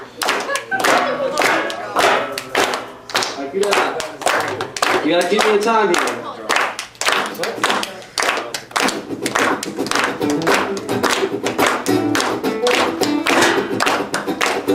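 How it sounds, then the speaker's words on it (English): A high school audience claps along in a steady rhythm, sharp hand claps repeating throughout with some thumps, while a performer talks over the beat. "So we're going to do some clapping here"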